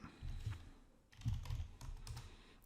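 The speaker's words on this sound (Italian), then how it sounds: "digito la parola int e confermo con l'invio" Quiet, close typing on a computer keyboard while entering code, with a steady patter of soft key clicks and a few sharper taps, no voices over it.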